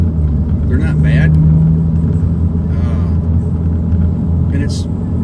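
Mini Cooper R56 driving along a country road, its engine a steady low rumble with road and tyre noise throughout, loud and close from inside the car, while a voice talks over it.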